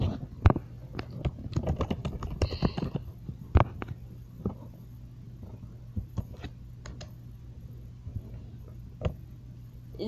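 A fandom page summary being typed on a computer keyboard, heard as irregular clusters of light key clicks over a low steady hum, close but soft, with no speech.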